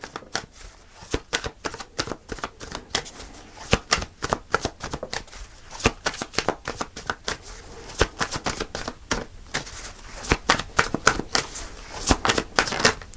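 Tarot cards shuffled close up, a continuous run of fast, sharp riffling snaps and flutters, loud and uninterrupted throughout with no talking.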